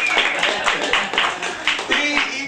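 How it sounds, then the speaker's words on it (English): An audience at a talk applauds a guest with dense, steady clapping that swells and dips over a couple of seconds. "Give a round of applause to Paul."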